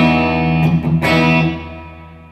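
An electric guitar played through a UAFX Golden Reverberator reverb pedal rings out in sustained chords with a few picked accents, then fades into a long, washy reverb tail, heard alone.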